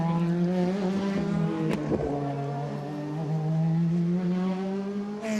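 A DTM race car accelerates through turn 1 at Zandvoort in 2018 qualifying, its engine a loud, steady high-revving drone with a brief gear-change blip midway, heard continuously from trackside.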